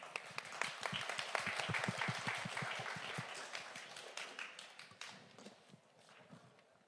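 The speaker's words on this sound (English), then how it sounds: "please give another round of applause to all of our honorable panelists." Audience applause at the close of a Web3 investment panel discussion at the FORESIGHT 2024 forum, with a dense crowd of clapping hands that is steady and full at first, then thins into scattered claps toward the end.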